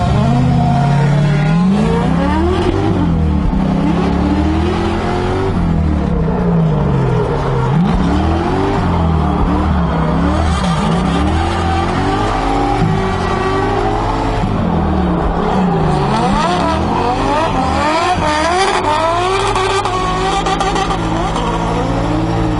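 An LS-swapped Mazda Miata MX5 with electric power steering drives hard in tandem with another car, engine loud and constant with repeated revving swells and shifts, tires squealing at moments, recorded close from inside.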